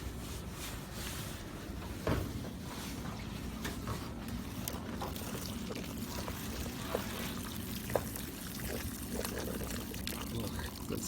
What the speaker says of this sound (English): I'm going to pour out the contents of this gas tank.